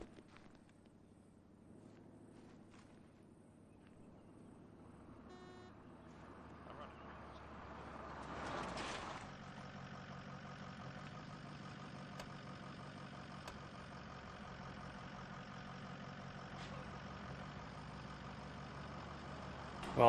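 A friendly vehicle engine approaches in a military video game, a low rumble that grows louder around the middle and then holds steady as a loud, constant drone with faint voices in the background.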